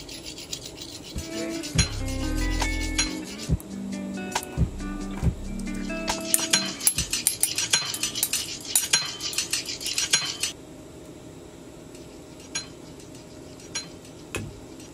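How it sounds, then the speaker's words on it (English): Metal spoons knocking against a microphone, a rapid run of close bright clinks and rattling taps that builds to a dense burst, then thins to scattered light ticks near the end. "me hitting the mic with the spoon"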